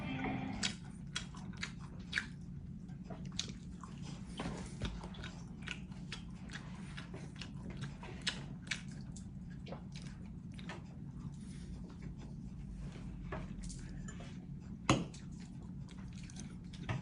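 Someone chewing chicken close to the mic, soft wet bites and crunches repeating irregularly over a low steady background hum, with a sharper crunch near the end.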